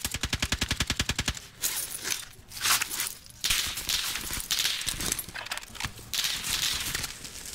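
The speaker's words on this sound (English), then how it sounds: "Where is he shooting me from?" Rapid gunfire from a first-person shooter game: a fast, loud burst of automatic shots at the start, followed by scattered shots, impacts and game noise while players talk over it.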